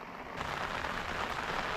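Steady rain pours down onto a lake, a dense, even hiss of countless drops close by with no voices over it.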